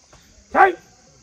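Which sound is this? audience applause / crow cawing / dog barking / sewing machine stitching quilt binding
dog barking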